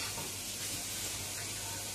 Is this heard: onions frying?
yes